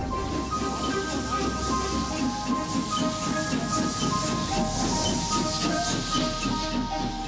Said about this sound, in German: Eine Probefahrt auf der Hausstrecke der Mansfelder Bergwerksbahn.